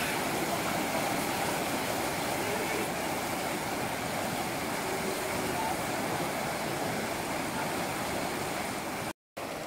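A strong, fast river current rushes steadily at a crossing point in darkness, a dense, loud, continuous watery roar close by that fills the whole stretch before cutting out briefly near the end.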